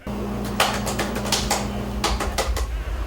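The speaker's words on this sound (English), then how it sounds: "he magically types without hitting the keys" Rapid bursts of clacky keystrokes on a keyboard, loud and close, with brief pauses between runs, over a steady low electrical hum.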